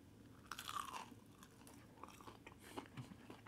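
Bites into crunchy Indian chicken 65 fried chicken give crisp crackling crunches followed by quieter chewing, close up and fairly faint, with no talking.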